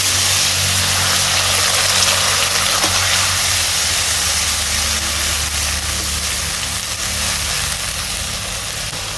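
Onion paste sizzles loudly in hot oil in a pan for a Bengali boal fish curry, a dense, steady hiss that fades slightly toward the end, with no voices over it.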